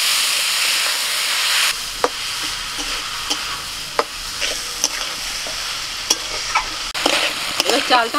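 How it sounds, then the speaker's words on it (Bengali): Washed rice stirred into fried spices in a hot pan: a steady sizzle broken by sharp, irregular spatula knocks and scrapes, close and without talk. "চালটা মশলার সাথে একটু ভালো করে নাড়াচাড়া করে নেব।"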